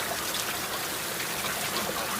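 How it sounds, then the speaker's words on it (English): Steady rain pouring down around a Honda GoldWing GL1800 motorcycle sheltered under a bridge, a dense, loud, continuous hiss of falling water with no talking. "Let's let this rain pass through."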